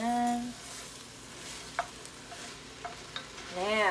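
Collard greens in a pot are stirred with red pepper flakes, soft sizzling under a few light scraping clicks, with brief speech at the start and end.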